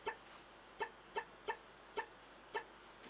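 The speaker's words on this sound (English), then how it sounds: "It's the Mario Fireball." Super Mario video game fireball effect, a series of short bright bouncing blips repeating at irregular intervals, quiet against a faint low hum.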